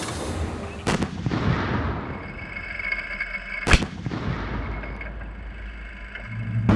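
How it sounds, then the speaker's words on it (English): A tank's main gun fires during a training shoot, heard as two sharp, heavy booms that roll and rumble away into a low background of engine noise, with no talking. "A direct hit with a very first shot."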